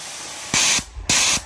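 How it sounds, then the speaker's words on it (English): Two short bursts of a spray gun clearing out green paint hiss out loudly outdoors, each about a quarter second long, separated by a brief pause with a quieter background hiss. "spray the rest outside turn the nozzle like that to spray all the green paint out"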